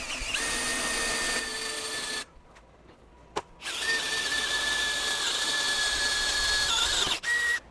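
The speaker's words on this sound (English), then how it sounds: "we've got our 5/16 inch drill bit chucked up in our drill" An electric drill fitted with a 5/16 inch bit whines steadily while boring a pilot hole. It pauses briefly with a single click, then spins up again for a longer, even run before a short stop and restart.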